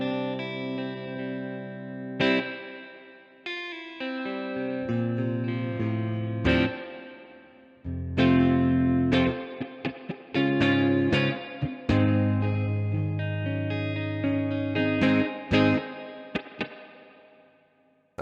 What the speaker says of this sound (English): This amplifier is very much known for having a really nice reverb.